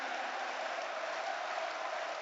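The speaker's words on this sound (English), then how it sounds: "Sean Fallon gets the applause and the acclaim he so richly deserves" Crowd at Celtic Park football stadium applauding on Flag Day, a broad, even wash of clapping from a large gathering that holds steady and fairly distant throughout.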